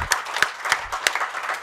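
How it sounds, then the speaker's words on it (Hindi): An audience at the Unacademy GATE 2023 rankers summit breaks into scattered applause, with sharp individual claps rising and falling in a loose, uneven rhythm over a brief stretch and no speech on top. "एंड प्लीज एक तो बनती है ताली जबरदस्त"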